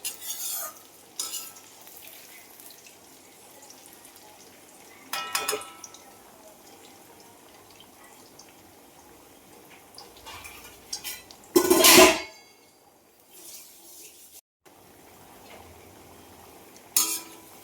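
Kothimbir vadi made with potato fry in a large wide pan. Occasional scraping and clinking bursts come from gentle stirring, with a louder clatter near the middle and quiet gaps of soft frying between.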